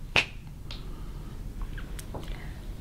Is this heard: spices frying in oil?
no